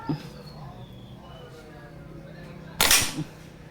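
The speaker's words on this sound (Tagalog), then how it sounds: "So unang putok using Meteor pellet." A single sharp shot from a tactical PCP air rifle firing a Meteor pellet cracks out near the end, loud and close after a quiet stretch of background hum.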